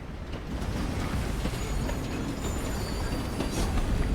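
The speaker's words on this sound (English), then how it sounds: "What happens when a train is facing another train?" Trains rolling in the video game Stone to Space, a steady, close rumble of wheels and rail noise with faint high squeals, continuous and unbroken throughout.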